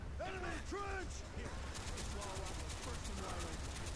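Gunfire aimed at a vehicle in the video game Black Ops, a quiet rattling stream of rapid shots and mechanical clanks continuing behind someone speaking.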